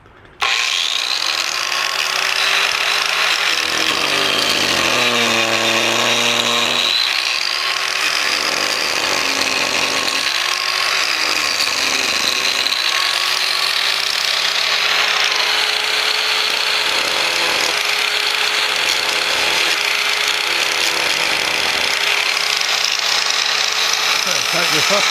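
A rotary chainsaw carving disc fitted with a depth limiting plate spins up and cuts into wood, a loud sustained whine that dips and rises in pitch as it bites, with a voice talking at times.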